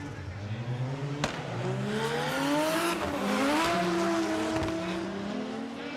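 A GR Yaris drift car at a Formula Drift Japan event revs hard through a run, engine pitch rising and falling with sharp shifts and tire noise, a commentator talking over it.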